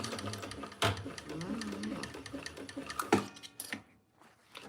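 A sewing machine stitches in rapid mechanical clatter with ticking beats and short bursts, someone talking over it before it stops briefly near the end.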